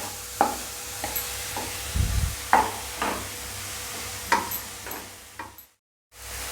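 Onions sautéing in a pan for a vegetable sandwich filling: a low, steady sizzle broken by scattered clicks and scrapes as they are stirred, quiet and close, with a brief silent gap near the end.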